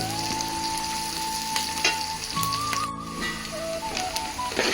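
Onions fry in a pan for red bagara rice, giving a steady, close sizzle with occasional stirring scrapes and a few faint tonal beeps in the background.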